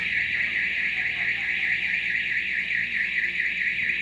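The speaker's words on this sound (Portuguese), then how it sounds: "O alarme louva ao Senhor." An electronic alarm goes off with a steady, high, slightly warbling tone that holds without a break from start to finish at moderate volume, with no talking over it.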